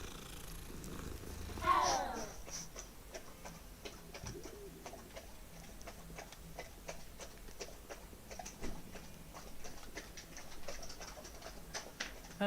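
Soft, steady cat purring in the Hogwarts Legacy video game, faint and continuous with a brief brighter sound near the start.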